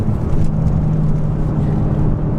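A rear-wheel-drive BMW M6 accelerates with a loud, steady low engine roar heard close from inside the car, sustained without pause and with no voices.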